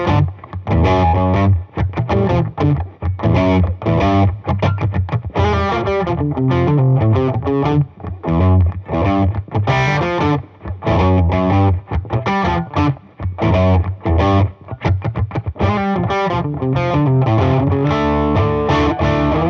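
Distorted rock guitar riff built on major chords, loud and continuous, with chunky rhythmic chord hits and some percussive string noise, played alone without talk.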